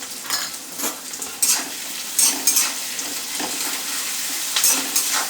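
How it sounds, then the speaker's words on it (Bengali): Capsicum frying in a pan for chili egg sizzles constantly, with a spatula stirring and scraping in short strokes, near and loud, and no voices. "আমি একটু ভাজবো ক্যাপসিকামগুলো"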